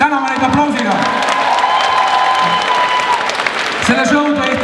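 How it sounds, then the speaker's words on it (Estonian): Audience applause and cheering at a spring fashion show for a department store's 55th anniversary, a steady dense crowd clapping for the full stretch with a voice and music-like tones running underneath. "Täname neid aplausiga!"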